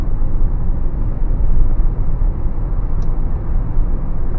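A vehicle passes close alongside a moving car on the road, its steady engine and tyre roar blending into loud continuous road and wind noise inside the cabin.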